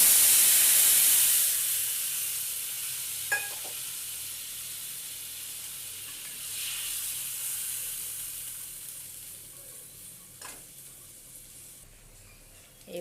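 Water poured into a hot pan of Bengali fish curry with brinjal sets off a loud sizzling hiss that gradually settles into steady, softer bubbling, with a couple of faint utensil clinks.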